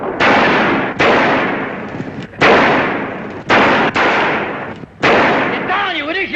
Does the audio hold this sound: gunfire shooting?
yes